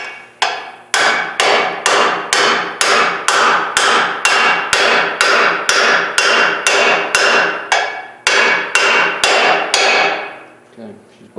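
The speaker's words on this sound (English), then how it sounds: "I'm just going to tap it with a brass hammer" Brass hammer tapping parts into the axle of a 2009 Ford F750 air ride truck, a long steady series of loud, close metallic blows in quick regular rhythm, ending with a couple of final strikes.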